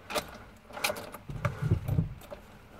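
Keys for a Ford Transit 2.0 TDDI van jangle in a few quick, close metallic bursts, quiet and brief, with faint low rumbling beneath.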